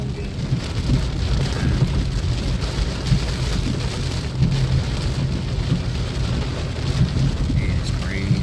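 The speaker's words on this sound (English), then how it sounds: "Coming down in buckets, I'm telling you." Heavy rain pours down steadily in a severe thunderstorm, a dense, constant hiss and patter of drops on surfaces with low rumbling underneath, loud and close throughout.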